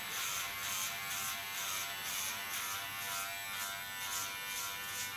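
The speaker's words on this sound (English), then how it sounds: "go in with my clipper, hold it in a straight line" A Kione hair clipper with a ceramic blade cuts a straight line across hair at shoulder length for a bob, giving a steady, close electric buzz that holds evenly throughout with no talking.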